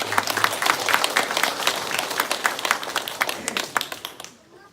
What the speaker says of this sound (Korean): 더 힘을 내라고 박수 한번